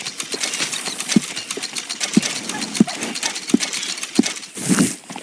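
Horse hooves clip-clopping in Red Dead Redemption 2, a steady run of evenly spaced thuds at walking pace, close and clear, with a brief louder rustle near the end.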